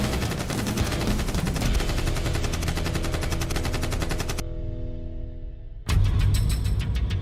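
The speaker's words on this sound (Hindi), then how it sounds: "कादिरव फायरिंग कर रहा है।" A rifle fires in fast automatic bursts, a dense rattling run of rapid shots that stops abruptly, leaves a brief lower ringing lull, then resumes loudly.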